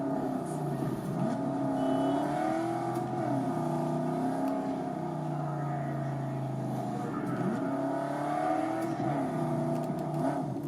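Car driving in Cyberpunk 2077, a continuous engine drone with rising and falling revs as it accelerates and eases off, steady and unbroken throughout.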